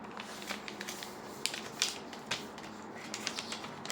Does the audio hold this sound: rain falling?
no